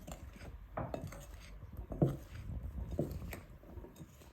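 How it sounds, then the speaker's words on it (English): Plain flour being mixed by hand into chopped vegetables in a bowl for Jamaican fritters, with soft irregular knocks, scrapes and clinks of utensil against bowl, quiet and close. "So I'm going to now mix it all in"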